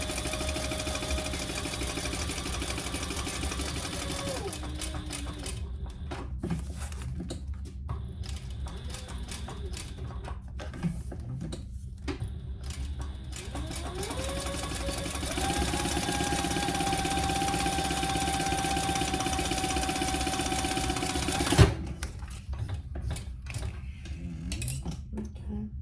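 A sewing machine set to a length-4 stitch runs steadily through ring tabs for waxed canvas on a sling bag, a long whirring mechanical drone with short pauses and a sharp clunk near the end.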